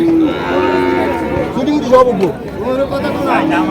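Several cattle moo loudly and overlapping amid the murmur of a busy crowd at the Chandina cattle market in Comilla, Bangladesh, with people talking nearby.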